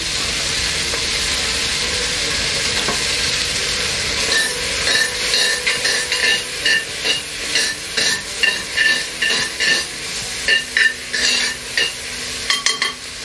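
Food caramelizes on a hot surface during a live grilling session, a loud continuous sizzle soon joined by a steady rhythm of repeated scraping strokes as it is stirred and turned.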